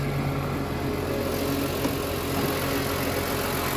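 A clean BMW E46 M3 3.2-litre engine with a sequential SMG gearbox idles steadily in a convertible with the bonnet open, giving a constant, moderately quiet mechanical hum with no talk.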